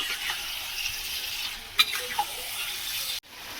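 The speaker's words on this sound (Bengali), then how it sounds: "মাংসটা আমি 10 মিনিট মতন কষিয়ে নেব এইভাবে।" Mutton frying as kosha in a pan, a steady broad sizzle with a couple of brief clinks of stirring and a sudden short drop near the end.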